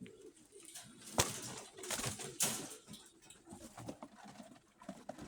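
A blue white-tailed pigeon coos in close, soft bursts, with a couple of sharper brief wing flaps or rustles and light background noise.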